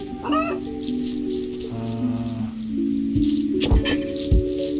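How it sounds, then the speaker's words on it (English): A chicken clucks in the video game Donut County, with short bright clucks and squawks over game sound effects and music, and a few low thumps toward the end. "Got that chicken on the ground."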